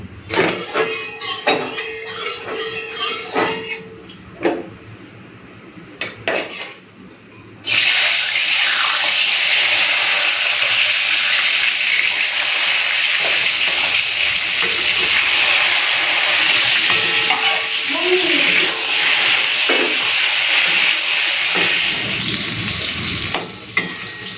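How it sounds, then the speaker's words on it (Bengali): Loud, steady sizzling of eggplant frying in hot oil, continuous and close, with a few clinks and bumps at the start before the frying settles in. "চলুন বেগুনটা ভেজে নিই, তারপরে কুমড়োটা ভাজবো। আর এদিকে তো তেলটা গরম হয়েই আছে।"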